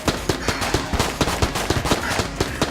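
Rapid automatic gunfire from the video game Enter the Gungeon rattles in a steady stream of sharp, evenly spaced shots, loud and unbroken throughout.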